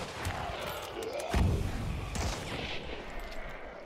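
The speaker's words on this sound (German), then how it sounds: "Du hast doch mit der Schrotflinte drauf geschossen, oder?" Shotgun blasts in the video game Hunt: Showdown, a couple of heavy booming shots with rumbling decay over a busy in-game background.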